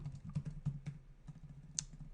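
Computer keyboard typing in a quick, uneven run of soft clicks, close but quiet, followed by a single sharper keystroke near the end, with a faint low hum underneath.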